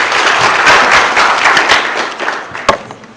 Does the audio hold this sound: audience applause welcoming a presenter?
yes